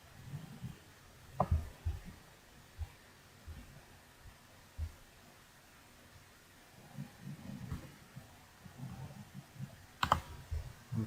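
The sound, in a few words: computer keyboard typing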